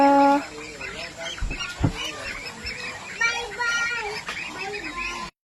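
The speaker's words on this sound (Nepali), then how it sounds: "मेरो हाँसहरू छ।" Loud, nasal honking calls from ducks repeat in bursts at close range, with background chatter from people nearby, in a rural Nepali village.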